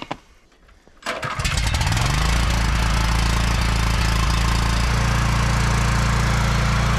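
A repaired generator engine is cranked and catches after a second, then settles into a loud, steady, close running drone with a rough mechanical beat, no voices.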